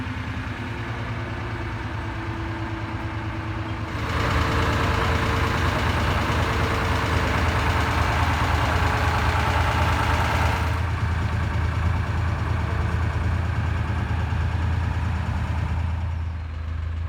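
A tug boat engine runs steadily while dredging canal moorings beside a narrowboat, a low droning rumble that swells louder midway as the engine works harder, then settles back.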